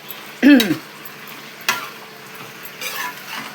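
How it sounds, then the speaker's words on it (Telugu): Broad beans are stir-fried in a pan with a soft continuous sizzle, punctuated by a few sharp scraping stirs and clanks of a utensil near the start and middle; nobody speaks. "చిక్కుడుకాయ ఫ్రై చేస్తున్నాను"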